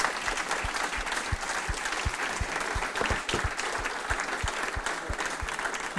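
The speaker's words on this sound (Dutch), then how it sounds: "met u een groot applaus aan hen geven" An indoor evening audience giving a round of applause, dense clapping with a few distinct nearby claps standing out, steady for several seconds.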